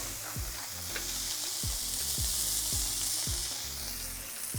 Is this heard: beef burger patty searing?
yes